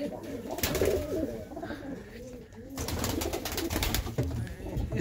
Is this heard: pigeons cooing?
yes